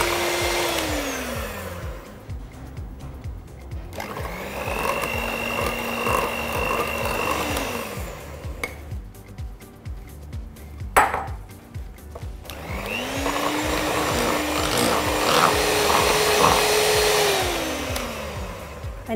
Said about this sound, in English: re-whisking the eggs to stiff peaks each time